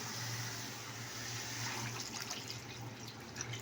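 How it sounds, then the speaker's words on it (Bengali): Water runs into a pan of cooking potato and pointed gourd curry, a soft continuous wash and trickle over a low steady hum, faint and close with no voices. "জল দিয়ে দিলাম।"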